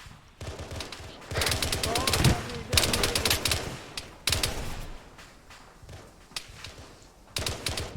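Rapid automatic gunfire in a Halo-style video game firefight, loud bursts of repeated shots with short pauses between volleys, dense and close throughout.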